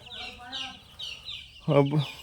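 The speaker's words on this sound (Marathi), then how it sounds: "कसे ते कोंबडी उकरून आपल्या पिल्लांना खाद्य" A free-range country hen gives a few short clucks, with one louder burst near the end; month-old chicks chirp faintly in the background.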